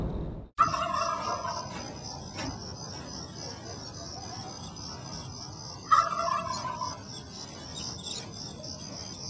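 A wild turkey gobbles in two loud, rattling bursts several seconds apart in a Wild Turkey bourbon advert, with a faint steady high insect-like whine underneath.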